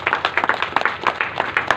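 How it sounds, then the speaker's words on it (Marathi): An audience claps together at a kirtan in honour of a mridang player, a brisk, rhythmic burst of close, loud hand claps with no talking. "त्यांच्यासाठी एकदा जोरात टाळी वाजा बरं."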